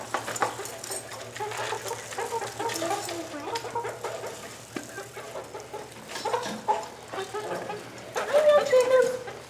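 Chickens clucking in a backyard coop while being fed greens and scraps, irregular close clucks and squawks with people talking nearby.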